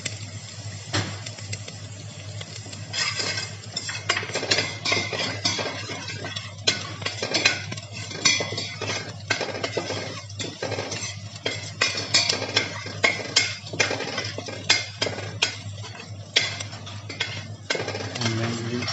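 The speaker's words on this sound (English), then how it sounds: "We will saute the garlic into olive oil." Garlic sauteing in olive oil in a pan brings irregular metallic scrapes, clinks and stirring knocks of a utensil over a constant low hum, close and fairly loud, with no talk.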